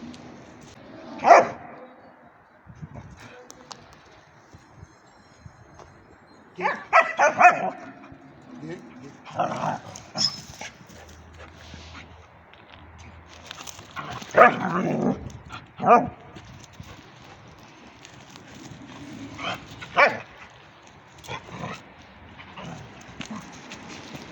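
A street dog barks in scattered bursts, some loud and close, mixed with a person talking and shuffling movement noises.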